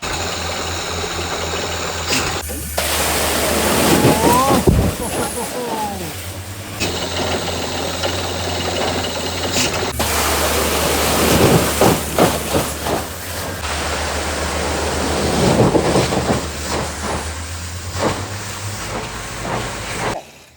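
A borewell drilling rig bores a well past 130 feet deep at a new house site. It makes a loud, close, continuous engine roar with rattling and hissing bursts that rise and fall throughout, and no one talks.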